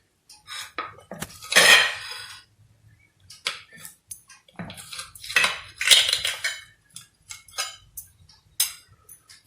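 A knife and metal utensils clink against a plate while a steamed banana cake is cut, producing loud scraping and clattering bursts in two main clusters separated by quieter taps.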